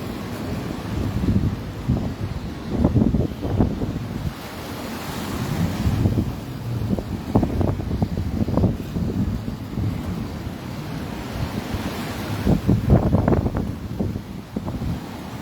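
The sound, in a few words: high sea waves and strong wind on Makassar Strait coast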